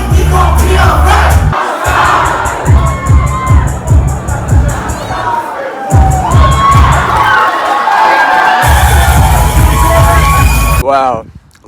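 A large concert crowd screams and cheers loudly and continuously, shrill shouts and whoops swelling and dipping in waves, with thumping bass underneath from the performance.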